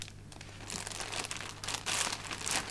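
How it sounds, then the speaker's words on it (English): Plastic packaging bag of an Ambu Spur II resuscitator being torn open and handled, a steady close crinkling and crackling of plastic that grows louder toward the end, with no voices. "To open the bag, pull the strip at the top of the bag and take the Spur II out."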